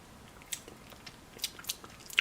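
Crunchy bites and chewing of vegan poutine with gravy and ketchup, heard as a few close, sharp mouth crunches spread over a quiet background, with no talking.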